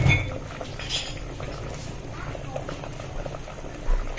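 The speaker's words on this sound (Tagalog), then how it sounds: "Pakuluan nating maigi hanggang sa alam nating luto na" Grouper (lapu-lapu) fish soup bubbling in a pot, a steady low boil with soft bubbling and a few faint metallic clinks of pot or utensil, over background kitchen noise.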